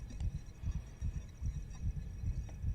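A low heartbeat thumps in a steady double-beat rhythm in the horror game Call of Cthulhu, paced evenly and close, over a faint hum.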